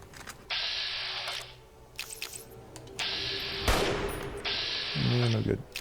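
Rifle fire in the video game Fallout New Vegas, several loud bursts of shots in sequence with sharp impacts and brief gaps between them, mixed with game effects.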